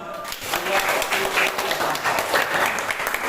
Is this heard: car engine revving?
no